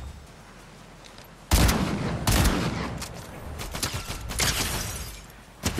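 Sniper and shotgun shots ring out in a video game match: sharp, loud bursts of gunfire come in irregular clusters over a low background, with several reports close together and a final shot at the end.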